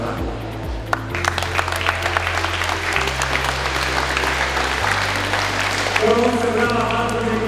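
Applause fills the hall after the formal opening of the Polish school fencing championships, steady and dense throughout, with a low musical tone or hum running underneath.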